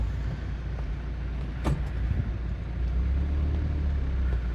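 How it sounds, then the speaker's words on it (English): A car passing on the road while a parked 1994 Nissan Atlas 4x4 truck idles, a low steady rumble that swells as the vehicle nears and goes by, with no talk. "Wait for this car to come by, and we'll get going."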